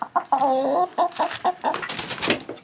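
Chickens cluck near a farmhouse coop in Portugal, a run of close, loud, choppy clucks and short calls that end in a burst of rustling activity.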